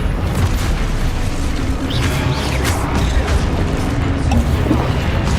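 Confringo blast spells going off in the Hogwarts Legacy video game: heavy, rumbling booms and crashing impacts roll continuously over a busy, layered game soundscape.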